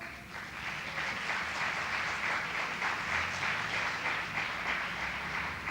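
Sustained audience applause fills a conference hall as guests are welcomed at an economics faculty event, a steady dense wash of many hands clapping throughout with no speech.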